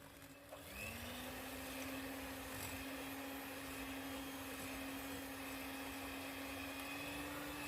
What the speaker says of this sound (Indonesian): kita masukkan pisang yang sudah dihaluskan seluruhnya. Mixer dengan kecepatan paling rendah sekitar